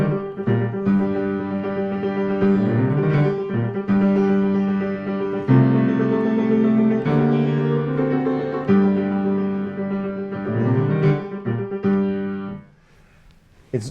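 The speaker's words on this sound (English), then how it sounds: "Schubert comes up with this phenomenal entry in the piano before the singer comes in" Piano introduction to a Schubert song, a sustained harmonic passage with repeated chords and shifting bass, played alone without voice for about twelve seconds before fading to near silence.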